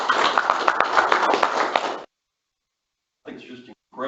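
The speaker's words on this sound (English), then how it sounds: "Let's just give the staff a round of applause for what they're doing." Brief clapping from attendees at a state commission meeting honors staff, a short burst of hand claps that cuts off abruptly, followed by silence and then a voice speaking.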